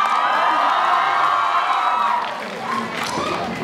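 Theatre audience at a Nepali comedy satire show breaks into loud cheering, whooping and clapping, a bright crowd roar that fades slightly toward the end.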